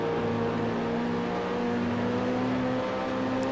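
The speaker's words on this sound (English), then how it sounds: "I got a whole gaggle of cars here." Racing cars in the Grand Prix Legends sim at Hethel drone steadily, their engine notes held as sustained tones that slowly rise in pitch, loud and continuous with no speech.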